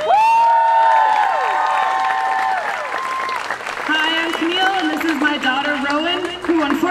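Crowd applause and cheering at a Bans Off Our Bodies rally responding to the overturning of Roe v. Wade, loud and sustained across the whole stretch, with a voice speaking over the noise partway through.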